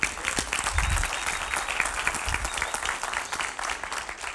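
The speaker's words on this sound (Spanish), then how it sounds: "denle un aplauso a Dios." A church congregation applauds during a worship service, a full room of steady, close clapping that holds evenly from start to finish, with no talking over it.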